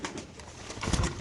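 Racing pigeons at a Bangladeshi pigeon farm, held in numbered cages, coo softly and continuously at close range, with a fuller burst of low throaty cooing near the end.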